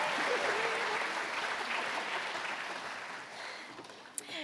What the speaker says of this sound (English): Please give a warm welcome to Jenna Katsuyama